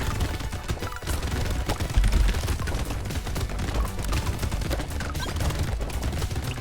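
Turrets in the video game Brotato fire in a dense, continuous barrage of rapid shots and impacts, loud and steady throughout with no pauses.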